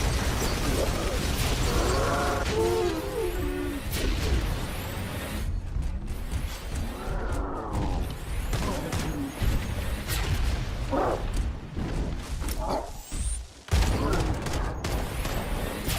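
Pistol fire and grenade blasts from Crimson Desert combat ring out in a busy, dense run of shots, crashes and whooshes, with someone talking over the game audio throughout.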